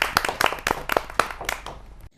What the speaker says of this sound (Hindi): जोरदार तालियों से स्वागत है डॉक्टर प्रिया सूफी जी।